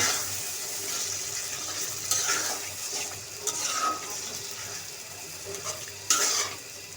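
A spoon stirs spiced beef tripe in a pot, giving soft, uneven scrapes and wet squelches over a low steady sizzle. A few sharper clinks of the utensil come through, and no one speaks.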